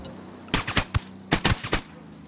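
Heavy machine gun fire from a cartel gunner at a sandbag emplacement in Ghost Recon Wildlands rips out in two quick bursts of several loud, close shots each.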